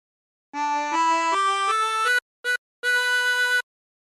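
Chromatic harmonica plays a clear phrase of a song, a run of rising sustained notes, a short staccato note and a final held tone, close and alone.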